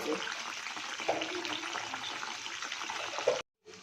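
Chicken strips fry in a pan of oil, a soft steady sizzle with occasional faint scrapes, fairly quiet, and cut off briefly near the end.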